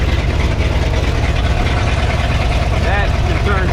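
Ford F600 truck engine idling: a steady, loud, close low rumble with no break, and a faint voice or squeal near the end.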